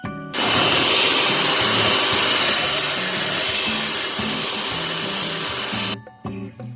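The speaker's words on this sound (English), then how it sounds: "Next, you want to get a hand mixer, and we're just going to beat our batter until it's nice and smooth for 2 minutes." A hand mixer beats cake batter for a root beer float cake with a loud, steady whir that runs for about six seconds and then stops abruptly, leaving a few quieter clatters.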